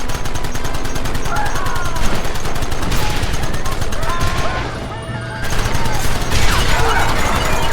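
Dense, continuous gunfire in Red Dead Redemption, rapid shots crackling almost without pause through a chaotic wagon chase, with shouting voices over the shooting.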